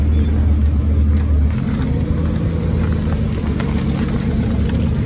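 An Aston Martin V12 pulls away at a Cars & Coffee meet. Its low engine drone shifts pitch after a second or so as the car moves off, under steady outdoor background noise.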